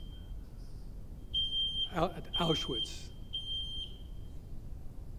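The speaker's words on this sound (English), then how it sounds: "I trust that's not a fire alarm." A smoke or fire alarm in a lecture hall gives a sustained high-pitched electronic beep that cuts in and out several times. Someone speaks briefly over it in the middle.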